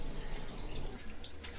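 Aquarium water drains out through a DIY hose siphon, making a soft, steady trickling and splashing wash with faint drips, low and continuous.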